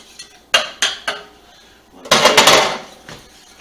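A spoon clinks and scrapes against a pot as tapioca pudding with sugar and milk is stirred: three sharp knocks, a pause, then a busier burst of rapid clanks and scraping up close.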